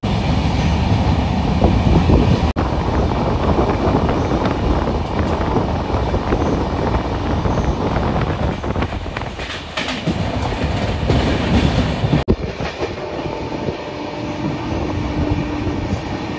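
The Barbil Jan Shatabdi Express 12021 runs on the Howrah to Ghatsila line with a steady, loud, close rumble and rattle of the carriages that continues throughout, with no talking.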